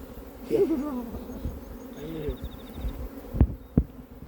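A steady low buzz of many honey bees hums throughout, with a few sharp knocks and clatters near the end.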